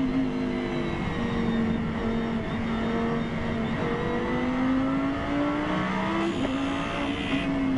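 Race cars in the Spa 24 Hours lap the circuit, with a steady engine tone rising and falling through gear changes, close and continuous with no talk.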